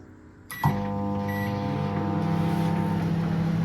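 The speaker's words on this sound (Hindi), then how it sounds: "1 मिनट के लिए माइक्रोवेव में रखा उसी की आवाज़ आ रही है" A click and soft beep, then a microwave oven starts up and hums steadily with a constant tonal drone, close by.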